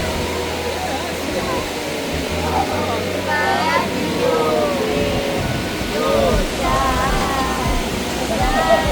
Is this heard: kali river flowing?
yes